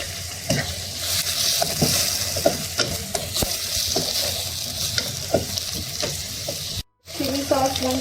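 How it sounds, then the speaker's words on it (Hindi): Chicken Manchurian frying in a pan, a continuous loud sizzle with scattered stirring clicks and scrapes, a brief cut, then the crackle resuming with a faint voice underneath. "फ्राई करेंगे।"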